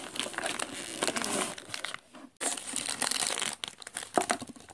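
Plastic packaging of a Littlest Pet Shop toy crinkles and tears as it is opened up close, with a brief quiet gap partway through.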